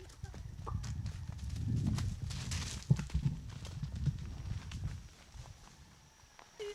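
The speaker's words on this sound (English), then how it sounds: "That's my big donkey. He loves to roll around." A large donkey rolls on the ground, giving soft thuds and shuffling scrapes against a faint outdoor background, with a few sharper knocks in the middle.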